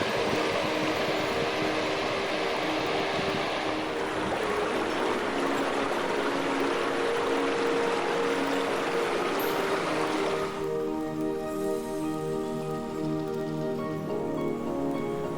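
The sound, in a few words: filling water at a mountain lake outlet stream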